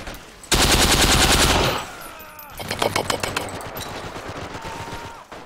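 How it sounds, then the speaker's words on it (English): A Tommy gun firing in the World War II shooter game Forgotten Hope 2 on the Tunis map: a loud, rapid full-auto burst of about a second, followed by more distant overlapping gunfire. "Oh god, the Tommy gun sounds awesome"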